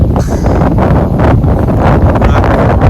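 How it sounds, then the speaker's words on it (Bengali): Cold wind blowing across a farm in the dusk just before a storm, a steady loud roar of gusts buffeting the microphone throughout with no pauses. "তো ঠান্ডা বাতাস মানে কোথাও বৃষ্টি হচ্ছে"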